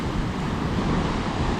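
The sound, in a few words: ocean waves and wind during a tropical storm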